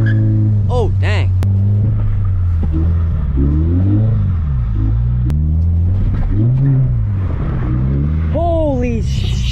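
A drift car engine revs up and down in loud, wavering surges, close by, with a person talking at times over the roar.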